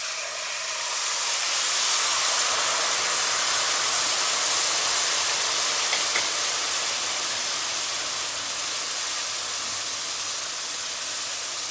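Cooled syrup hits hot halva in the pan, giving a loud, steady hiss of sizzling and steam that swells early and holds broad and constant to the end, with no voices over it.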